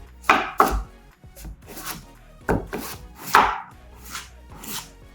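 A knife slices through radish for kimchi on a cutting board, giving a series of crisp, close chopping strokes in an uneven rhythm with short pauses between cuts, and no talking.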